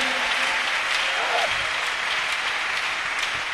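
A church congregation applauds and cheers in a steady, dense wash of clapping that lasts throughout, with voices mixed in.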